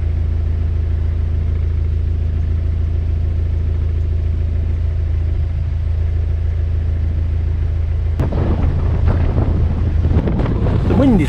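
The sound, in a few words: strong wind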